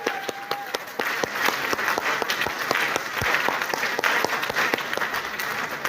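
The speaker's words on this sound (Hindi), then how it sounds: "एक बार जोरदार तालियां मिस्टर संजय सर के लिए।" At a seminar, an audience breaks into loud applause for Mr. Sanjay Yadav, many sharp individual claps blending into sustained, energetic clapping close by.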